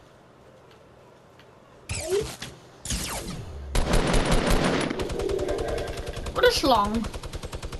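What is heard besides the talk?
minigun firing in a video game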